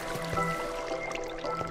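Flowing water trickling and pouring steadily in Minecraft, a soft, continuous liquid burble at moderate level, with faint game tones layered over it.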